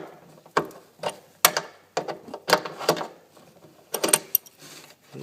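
A crescent wrench loosens a bolt on the taillight of a Pontiac G6, producing close, sharp metallic clicks and short scraping bursts in an uneven rhythm with quiet gaps between, and no speech.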